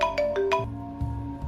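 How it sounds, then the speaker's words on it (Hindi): A phone rings in a kitchen, a short electronic ringtone melody of a few bright tonal notes followed by lower sustained tones, fairly close and alone. "तभी एक फोन आया।"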